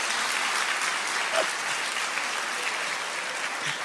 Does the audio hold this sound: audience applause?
yes